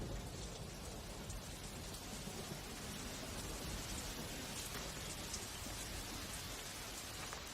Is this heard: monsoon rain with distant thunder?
yes